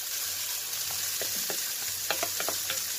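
Ham frying in a pan for fried rice sizzles under a steady hiss, with a cluster of spatter crackles and a few stirring scrapes toward the end.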